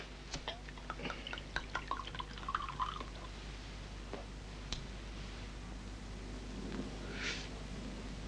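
Bourbon poured straight into a glass: a scatter of light drips and small clinks at first, then a brief, soft trickling pour near the end, fairly faint over a steady low room hum.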